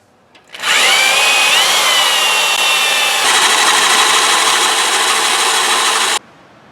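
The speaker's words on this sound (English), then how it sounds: "then I'll start drilling the holes" A power drill whirs loudly and steadily for about five seconds, its pitch rising as it spins up, then stops abruptly, drilling holes for a Rancho 3-3.5 inch lift on a Jeep Wrangler JKU.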